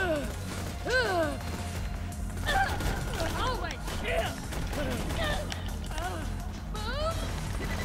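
Gunfire in Borderlands 2 comes as scattered sharp cracks and impacts through the stretch, mixed with game effects and overlapping excited voices.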